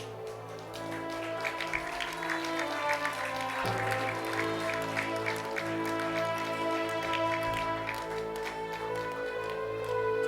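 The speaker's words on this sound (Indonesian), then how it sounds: "Beri tepuk tangan sekali lagi untuk Dr." Studio audience at an Indonesian presidential-themed TV contest show applauding, a sustained wash of clapping with music underneath, no voices over it.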